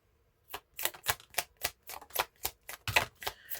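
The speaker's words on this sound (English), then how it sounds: "I always go through this deck twice when I shuffle" A rapid series of crisp riffling and tapping bursts as tarot cards are shuffled close up, about a dozen quick strokes in steady rhythm.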